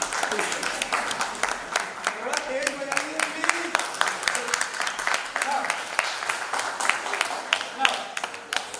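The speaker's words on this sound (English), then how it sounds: "there can be some little bit round of applause" A round of applause from an audience at an in-house teacher training session on joyful learning, dense clapping that carries on steadily throughout with a voice speaking faintly beneath it.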